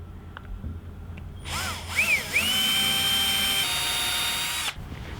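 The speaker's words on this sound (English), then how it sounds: "So now we're just gonna drill a small hole" A power drill spins up with a rising whine, briefly revs, then holds a steady high-pitched drone for a couple of seconds before stopping, drilling a small hole in a shipping container.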